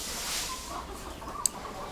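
Hens and gamecocks cluck softly at feeding time, a faint, low murmur of bird calls with one sharp click near the end.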